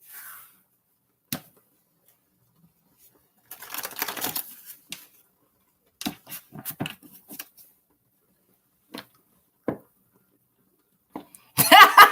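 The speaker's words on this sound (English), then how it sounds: "Let me finish shuffling these other decks" Sporadic bursts of tarot card decks being shuffled and riffled, short papery flurries separated by quiet gaps, close by.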